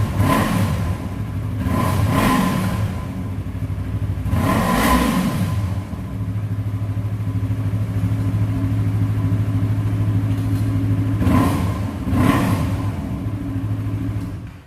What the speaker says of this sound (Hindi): सो गाइस, इस पे हम लोग अपना akrapovic एग्जॉस्ट इंस्टॉल कर चुके हैं। अभी इसका साउंड टेस्ट करते हैं